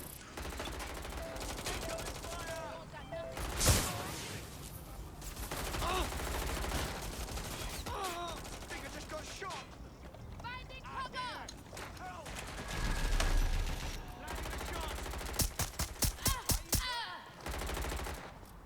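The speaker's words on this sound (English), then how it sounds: "This paintball gun is surprisingly effective" A paintball gun fires in the Watch Dogs video game, with scattered shots amid game noise and a rapid string of sharp, loud pops near the end.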